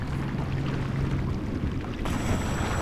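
Underwater ambience in Crysis 3 is a low, murky rumble and wash with a steady whooshing drone. A higher-pitched tone joins partway through.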